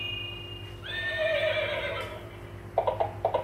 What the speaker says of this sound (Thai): เฮ้ยเสียงม้า